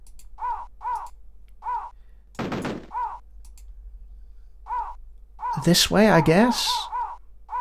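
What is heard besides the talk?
birds cawing in the video game Cannon Fodder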